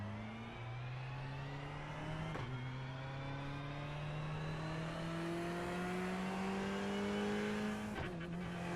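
Ferrari 488 Evo race car engine in iRacing at the Hungaroring, a loud, steady, high-revving drone that climbs in pitch and is broken by two sharp gear shifts.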